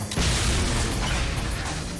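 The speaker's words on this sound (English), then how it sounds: "I'm gonna shoot it." A gunshot in a robot video game lands as one sudden loud burst that spreads into a dense roaring wash and holds for about two seconds, with no speech.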